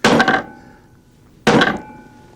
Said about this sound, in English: I can hit it as hard as I want to.